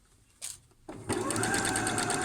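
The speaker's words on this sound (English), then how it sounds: "try to control the speed of your machine so that you can keep the fabric moving" A sewing machine stitches around the curved edge of a pyjama shirt pocket, starting with a couple of short bursts before settling into a steady, close, whirring run.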